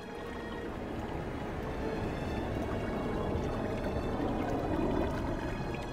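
Tidal water rushes into the Aldabra lagoon in a continuous broad wash, steady and moderately loud with no break, a dense flowing roar throughout.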